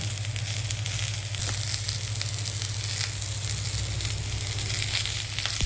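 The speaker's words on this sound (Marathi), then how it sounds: "कांदा बारीक कापून घ्यायचा. छान तसंच जसं खोबरं भाजलं ना तसंच भाजून घ्यायचा" Chopped onion frying in oil in a pan on a wood-fired stove for mutton curry, a steady close sizzle with a low rumbling hum from the fire underneath, continuous and fairly loud throughout.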